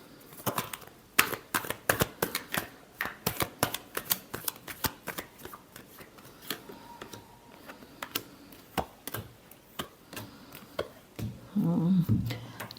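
Tarot cards are shuffled by hand in a quiet room, with crisp close riffling snaps and papery flicks in irregular bursts, followed by a brief low murmur near the end.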